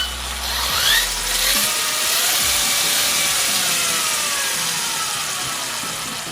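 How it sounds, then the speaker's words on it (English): An HPI Savage Flux XL electric RC monster truck revs steadily, a continuous whining motor drone with rising and falling tones, close and fairly loud throughout. "I'll rev it up a little bit for you guys here."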